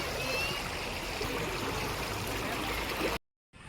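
Stream water flowing down from Rampa waterfall near a hillside temple makes a continuous broadband rush close by, then cuts briefly to silence near the end.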